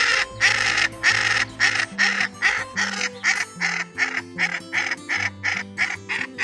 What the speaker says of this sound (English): I can't get a word in edgewise over this duck.